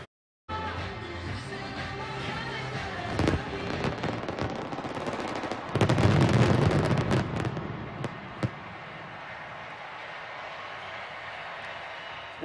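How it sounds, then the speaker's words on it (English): Fireworks bursting during halftime of the 2014 Holiday Bowl football game between USC and Nebraska, with loud rapid crackling volleys and sharp booms over a steady stadium roar, peaking in a dense barrage midway. "Wasn't just halftime in which we had fireworks."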